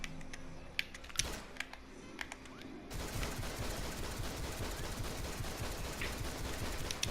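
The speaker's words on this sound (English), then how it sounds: "I love going full auto with the dual pistols." Dual pistols firing full auto in DC Universe Online: a few scattered faint clicks, then a sustained stream of rapid, quiet gunfire to the end.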